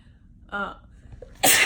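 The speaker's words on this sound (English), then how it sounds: "There's the sneezing stuff again." A single loud, sharp sneeze close by, preceded by a short voiced intake of breath, then it cuts off.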